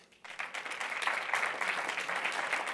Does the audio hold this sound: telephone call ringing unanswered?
no